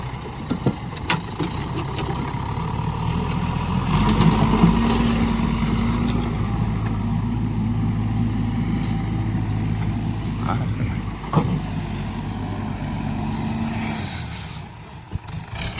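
A JCB machine's diesel engine running on a farm, a steady low rumble that swells mid-way and holds, close by, with people talking over it.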